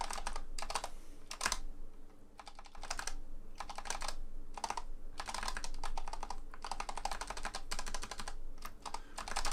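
Rapid clicky button presses on a Haute42 U16 leverless controller with black keycaps during fast gameplay, coming in dense bursts with brief pauses, close and crisp with no talking.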